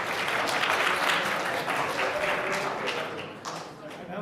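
Sustained applause from an audience at a new venture competition, a dense, even wash of many hands clapping that holds steady for several seconds and eases slightly toward the end, with voices underneath.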